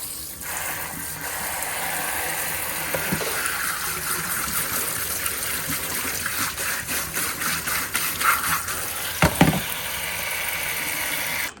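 Tap water runs in a steady, close gush while pork ribs are washed in a kitchen, with occasional clatter and splashing bursts near the end; no talking.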